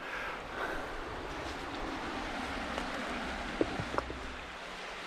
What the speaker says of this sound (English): Well, that's the River Barrow, still in its infancy.